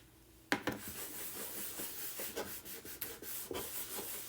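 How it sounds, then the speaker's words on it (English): Soft, rhythmic rubbing strokes as wax is worked onto a heavily distressed wooden surface, quiet and close, with a few sharper scuffs between steady passes. "Now, we're gonna go ahead and wax this."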